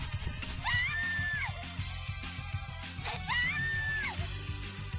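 A recycled enemy scream from the video game Annet Futatabi repeats twice, each a shrill rising-and-falling shriek over game music and effects, loud and close.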